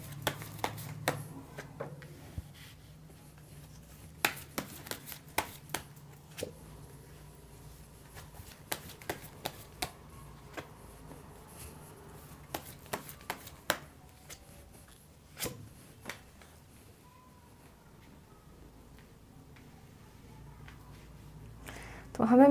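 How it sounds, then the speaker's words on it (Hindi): Tarot cards drawn and shuffled by hand, soft scattered flicks and snaps of card stock, faint and close, while someone talks quietly. "इसमें सबसे पहले मैं निकाल रही हूँ आपके कार्ड्स।"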